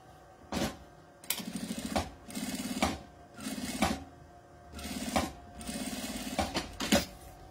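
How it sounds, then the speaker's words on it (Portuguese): Sewing machine stitching bias binding onto a women's fabric document wallet, running in short rapid bursts of steady needle chatter separated by brief pauses, close and fairly quiet. "Posiciono o viés aqui e passo a costura."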